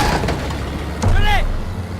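A grenade blows up in the World War II shooter Call of Duty WWII, a sudden low boom partway through, set among battlefield noise while someone shouts over the action.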